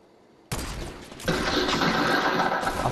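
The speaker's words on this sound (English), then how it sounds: "I'm firing from here" Gunfire erupts in Fortnite after a brief quiet, rapid bursts of shots that swell louder and continue as a dense, rattling volley to the end.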